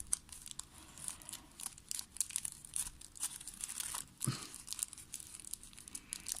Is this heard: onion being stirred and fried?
no